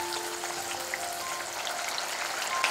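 Yogurt masala sautéing in oil over low flame for a doi katla fish curry, a steady close crackling sizzle with scattered small pops, even and uninterrupted.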